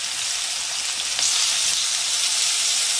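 Salmon fillet frying skin-side down in a pan, giving a loud, steady hiss of sizzling oil with no pauses.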